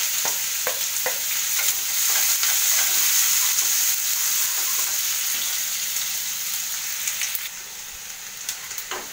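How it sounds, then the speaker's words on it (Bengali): Chopped onions and dried chillies frying in oil, a loud, dense sizzle and crackle close up, with intermittent spatula scrapes and taps as the pan is stirred, and no voices. "পেঁয়াজটা একটু ভাজা ভাজা হয়ে গেছে"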